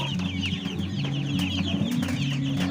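Small young chickens cluck and chirp continuously on a farm, several birds overlapping in a busy, close chorus with no talking.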